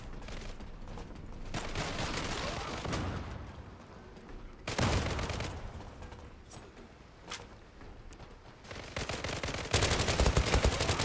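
Bursts of P90 submachine gun fire in the online shooter Zula, loud rapid volleys repeating in several clusters across the clip with no talking.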